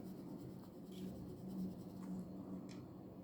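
A pink pencil colouring in on paper during a counting exercise, soft, steady scratchy strokes at low level with faint room noise and no speech.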